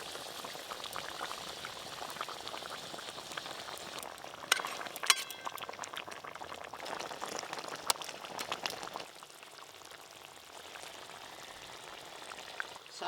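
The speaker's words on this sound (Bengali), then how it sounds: "ঝোল ভালো করে ফুটে গেছে, ভেজে রাখা মাছগুলো দিয়ে দেবো।" Fish curry gravy for a village-style sarputi mustard-oil curry bubbles at a steady boil in a pan, a continuous close hiss and bubbling with small pops throughout, a little quieter toward the end.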